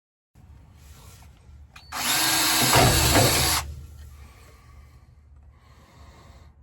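A power drill bores a hole in metal for a trailer hitch on a Squarebody Chevy, with one loud whirring burst of about a second and a half, close, set between quieter handling noises.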